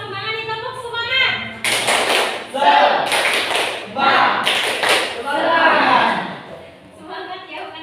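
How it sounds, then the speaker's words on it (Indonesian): A group in a school counselling session does a rhythmic spirit clap, loud unison claps in short patterned bursts that alternate with chanting voices, the group clapping together in sharp sets. "Ayo, kurang semangat nih, tepuk semangat."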